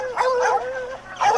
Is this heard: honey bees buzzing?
no